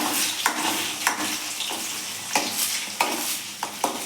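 Beaten egg stirred and frying in hot oil in a pan for egg fried rice, a steady sizzle broken by several sharp spatula scrapes and taps against the pan, close and clear with no talking.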